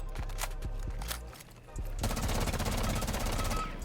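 Automatic weapon fire rattles in Rainbow Six Siege recoil practice against a training dummy: a few separate shots first, then a sustained rapid burst of closely spaced rounds filling the second half.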